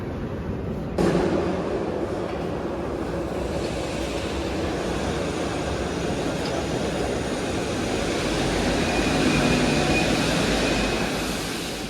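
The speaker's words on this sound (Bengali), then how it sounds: "এখনই ট্রেন চলে আসবে" A metro train pulls into an underground station with a loud, steady rumble and rushing roar that swells over about twelve seconds, with no talking.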